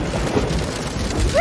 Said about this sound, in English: Mr. Frog, why would you want to make rain sounds on your keyboard?